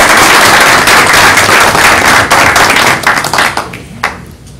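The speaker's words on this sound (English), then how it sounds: "let's give Ava a big round of applause." A board of education meeting audience gives a big round of applause for Ava, a student artist, loud close clapping that thins into a few scattered individual claps and dies away.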